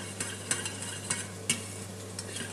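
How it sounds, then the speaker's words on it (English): Bacon lardons fry in a pan, a faint steady sizzle with a few light scraping stirs at irregular intervals over a low background hum. "I've had my bacon lardons cooking and frying off in the pan to render some of that fat"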